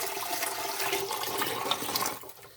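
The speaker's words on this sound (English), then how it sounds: "So I go ahead and just start with some hot tap water." Hot tap water running from a faucet in a home kitchen, a steady hissing splash that holds evenly and then tails off near the end.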